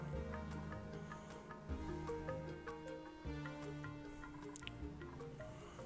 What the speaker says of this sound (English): We're getting some splashes.